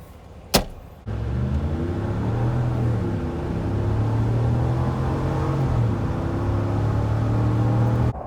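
A 2020 Dodge Ram 1500 Hemi Laramie pickup truck drives along with a steady low engine and road rumble heard from inside the cab, after a brief sharp knock near the start, with no talking.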